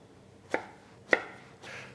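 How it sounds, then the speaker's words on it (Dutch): A knife chops a mango into small cubes on a cutting board, three sharp distinct knocks about half a second apart, close and clear in a quiet kitchen with no talking. "Dat gaat in kleine blokjes."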